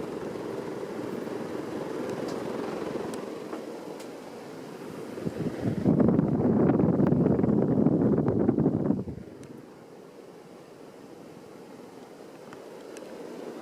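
A Casablanca Panama II ceiling fan from around 2001 with an XLP motor runs on high, giving a steady broad airy rush that swells louder for a few seconds, then settles back to a softer whoosh.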